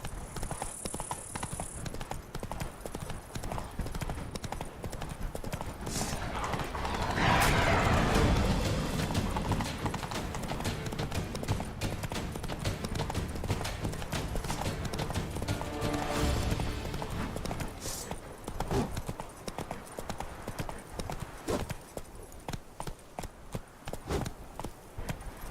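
A horse in The Witcher 3 gallops in a rapid, steady clip-clop of hooves that swells louder midway, with a short whinny and some in-game background noise mixed in.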